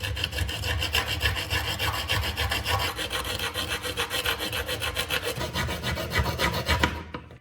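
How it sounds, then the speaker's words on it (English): A metal file rasps steadily against the tips of a screw being sharpened, a close, continuous scraping with quick back-and-forth strokes that stops abruptly at the end. "Use a metal file to sharpen both tips so they make clean contact."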